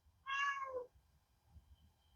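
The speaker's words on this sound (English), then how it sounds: "my cat is angry with me." An angry cat lets out a single loud, drawn-out meow that bends downward in pitch, close by, followed by quiet low background noise.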